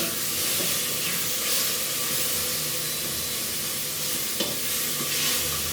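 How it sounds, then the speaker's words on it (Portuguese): Small conchiglie pasta shells fry quickly in a pot with a dense, continuous sizzle and rustling stir, loud and close throughout, with a faint knock near the end and no talking. "Vou dar uma fritadinha rápida aqui."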